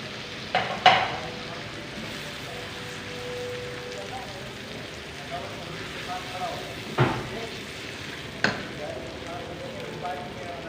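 Eggs and onions frying in a pan, a steady soft sizzle running throughout with a few sharp scrape-and-clack accents as a spatula stirs them, moderately close.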